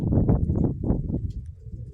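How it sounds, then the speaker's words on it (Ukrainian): Pigeons from a dovecote make a series of low, muffled cooing bursts close by, several soft pulses in quick succession that fade toward the end. "Знову з голубятні голуби"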